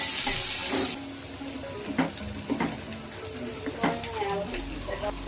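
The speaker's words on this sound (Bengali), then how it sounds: "আর এখন গরম তেলে চলে যাচ্ছে জিরে" Cumin, onion and chili are dropped into hot oil in a home kitchen: a loud initial sizzle that settles into crackling frying with stirring and utensil clatter, close and without talk.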